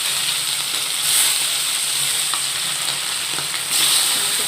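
Fish sizzling loudly as it goes into hot refined oil in a kadai, a steady bright hiss that swells briefly at the start and again near the end, close and continuous with no talking.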